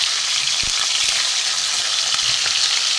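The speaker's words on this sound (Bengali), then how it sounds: "হালুয়া মাছগুলো আমি প্রথমে ভেজে নেব।" Halua fish frying in hot oil, two pieces at a time. A loud, even crackling sizzle fills the clip, with a few light stirring taps and no voices.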